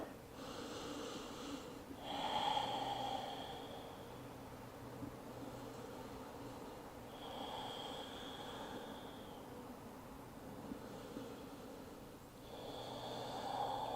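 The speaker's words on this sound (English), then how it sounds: "Let's take 2 more breaths here." Slow, deep breathing with long drawn inhales and exhales, repeated in a steady rhythm over faint room hiss, taken while resting in child's pose during a live yoga class.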